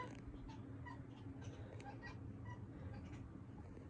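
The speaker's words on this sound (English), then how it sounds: "My cat is screaming at my watch." A cat indoors yowls and meows insistently in a string of faint, repeated cries over quiet room noise.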